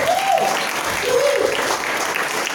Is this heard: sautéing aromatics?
no